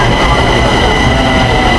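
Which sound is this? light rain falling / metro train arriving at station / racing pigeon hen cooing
metro train arriving at station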